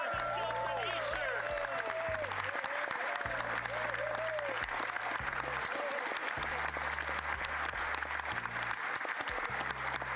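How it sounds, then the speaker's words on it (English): Members of the Canadian Parliament cheer and applaud in the chamber, sustained dense clapping with shouts throughout, while a voice speaks over the noise. "even the conservative are cheering, Mr. Speaker"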